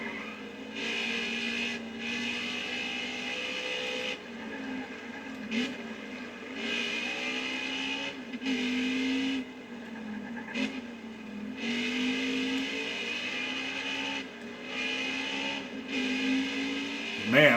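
Race truck engines in the NASCAR Heat 5 video game rise and fall in pitch as gears shift and the throttle lifts through turns, a whining, revving drone with tire noise, moderately loud.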